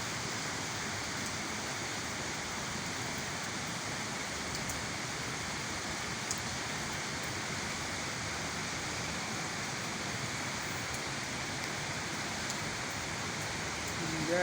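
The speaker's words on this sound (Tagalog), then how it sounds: "Ang lakas ng ulan sa Manila oh." Heavy rain falls over Manila in a steady, unbroken wash of hiss and patter that holds at the same level throughout, with no talk heard over it.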